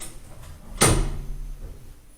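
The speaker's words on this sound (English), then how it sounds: "Doors closing." Lift doors at a railway station footbridge between platforms slide shut with one sharp clunk, set against a steady low hum of the lift and surroundings.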